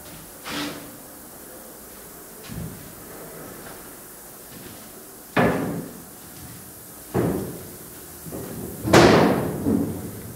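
The metal cab door of a T-150 tractor under repair is shut several times, giving separate loud slams and thuds spaced a second or two apart in a quiet workshop, with the last ones the heaviest.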